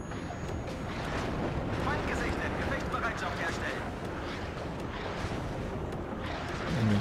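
Katyusha rocket artillery in the WARNO war game fires as a continuous, rumbling roar of launches and impacts that holds steady for seven seconds, with a voice talking faintly underneath.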